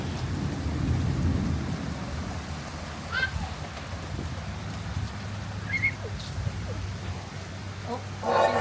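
Thunderstorm at a farm patio: a low rolling rumble of thunder early on over a steady hiss of rain, with occasional faint bird calls and distant voices.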